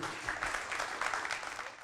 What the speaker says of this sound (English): A big round of applause, guys.